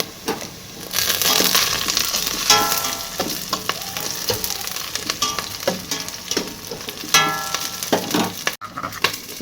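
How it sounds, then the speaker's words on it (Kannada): Green chillies fry and crackle loudly in a hot pan, with a continuous sizzle broken by stirring scrapes and a few sharp spatters, close up and alone without speech. "ರೀ ಮೆಣಸಿನ್ಕಾಯಿ ಹಾಕ್ಕೊಂಡು ಫ್ರೈ ಮಾಡ್ಕೊಳ್ಳಿ"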